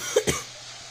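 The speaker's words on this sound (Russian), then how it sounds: "Извините за кашель, пожалуйста." A single short cough, followed quickly by a second softer one, close to the microphone over a quiet background.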